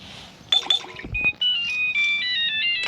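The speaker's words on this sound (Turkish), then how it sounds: "Ay, telefon dedi." A telephone ringtone plays as a bright electronic melody of rising and falling tones, fairly loud and close, with a short burst of other noise partway through and no voices.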